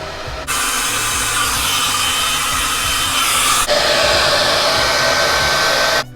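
A T3 hair dryer blows with a loud, steady whooshing roar that shifts setting midway and cuts off near the end, close up with no talking.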